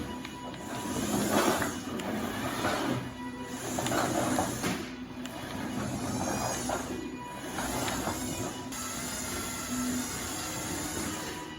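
A shop vac converted into a robot drives around on electric motors, giving off a whirring, grinding mechanical drone that swells and fades in repeated bursts as it speeds up and slows.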